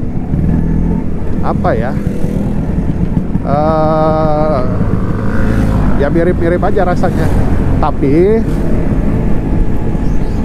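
A Vespa scooter engine running on PTT Challenger full synthetic two-stroke oil idles with a rough, continuous putter under someone talking, with other engine whines and a few higher tonal sweeps from nearby vehicles.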